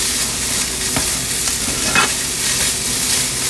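Yellow rice stirred in a hot pan, a loud, close, continuous sizzle with spoon scrapes and a few sharper knocks against the pan, no voices.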